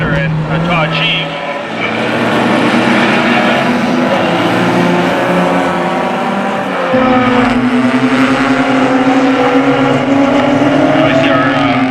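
Race cars in a closed-wheel race battle into turn 1 at Mission Raceway, their engines droning loudly with rising and shifting pitch as they pass, buffeted by wind noise, with a commentator talking over them.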